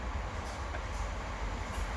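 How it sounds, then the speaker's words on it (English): A train rumbles past steadily and loudly for the whole stretch, a continuous rail roar from nearby in southwest London, with no voices. "just wait for this other train to go past."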